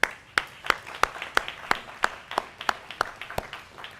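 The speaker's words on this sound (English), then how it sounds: "who I want to start by giving a giant round of applause to them." Rhythmic, evenly spaced claps ring out for a city snow team at a Louisville mayor's press conference, a dozen distinct slaps at a steady beat over faint room background.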